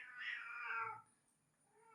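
A single drawn-out cat meow, fairly clear and close, lasting about a second, followed by quiet background.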